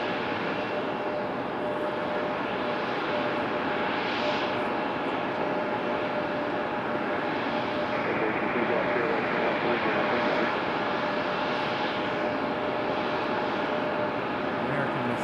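JetBlue airliner turning on the ground at Raleigh-Durham International airport, a steady jet engine roar at moderate distance with a person talking over it.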